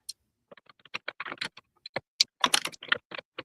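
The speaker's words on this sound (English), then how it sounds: "He's tapping away on the computer." Someone types on a computer keyboard in the background, irregular bursts of crisp key clicks and clatter with short pauses, fairly faint in a quiet room.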